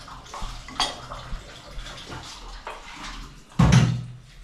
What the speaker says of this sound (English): I need to add water